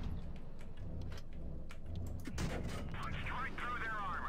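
Tank cannon shots in the World of Tanks Blitz video game: sharp bursts and one heavier boom over a constant rumbling battle backdrop, with a voice speaking over it.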